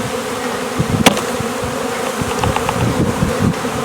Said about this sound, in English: you want to try to get as many of the bees out of here as you can. And you just do that by whacking it a few times to get them loose